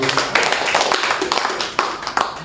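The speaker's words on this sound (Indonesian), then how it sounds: "kita kasih aplaus dulu" An audience claps at a coordination meeting of IKAP Jakarta held at SMK Karya Guna Manggarai. The dense, continuous applause is heard up close through the whole short stretch.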